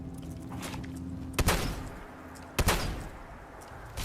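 Two sharp shotgun blasts in Fallout 4, spaced over a second apart, each loud and close with a short ringing tail over a steady low game-ambience hum.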